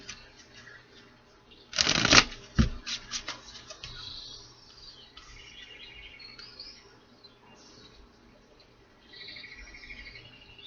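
A quick riffle shuffle of playing cards, a sharp crisp burst followed by a few lighter flicks, then quiet room ambience.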